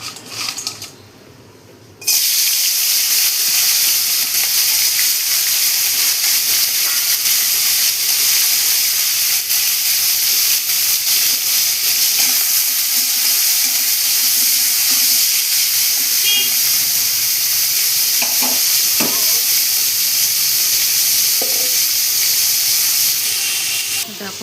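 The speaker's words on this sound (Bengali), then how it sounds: "এবার আমি নুন হলুদ মাখিয়ে রাখা কাঁকড়াগুলো দিয়ে দেবো।" Salted, turmeric-coated crabs dropped into hot mustard oil in a wok, a loud continuous hissing sizzle that starts abruptly after a brief quieter moment and holds steady for over twenty seconds.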